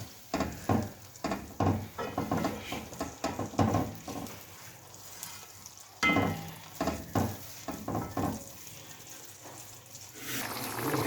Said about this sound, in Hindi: अब ये हम टमाटरों का पेस्ट डाल रहे हैं और अब हमने इसको मसाले को अच्छी तरह भूनना है।